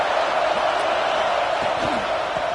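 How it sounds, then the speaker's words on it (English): Stadium crowd noise from the Madden 24 football video game: a steady, dense roar of a fired-up crowd that holds at an even level throughout. "It's early, but this crowd is fired up. Listen to this noise here."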